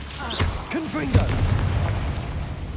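A Confringo spell blasts in the Hogwarts Legacy video game, a single sharp boom near the middle followed by rumbling debris, with short vocal grunts and speech-like sounds around it.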